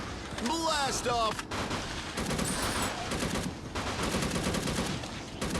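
Dense gunfire from the mobile shooter Unkilled, with rapid repeated shots and bursts sustained throughout, loud and close, mixed with game effects and some voice.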